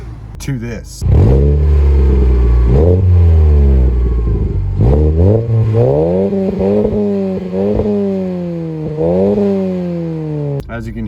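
Car engine with a new aftermarket exhaust, its catalytic converter previously involved, revs loudly in a series of sharp rising and falling blips over about ten seconds, close to the listener, with no talk over it.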